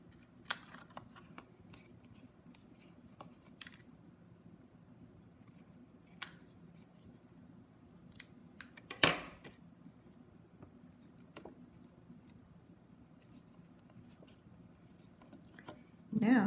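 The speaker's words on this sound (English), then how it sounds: "And trim off the edges." Scissors trim the edges of a paper card in several sharp, separate snips with quiet gaps between them, close up and fairly faint, followed by a little paper handling.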